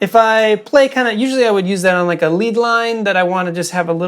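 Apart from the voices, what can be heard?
None of the usual background noises is heard.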